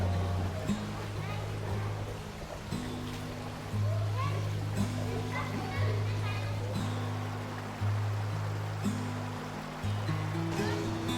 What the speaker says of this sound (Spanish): unos niños encuentran alivio del sol abrasador en sus aguas frescas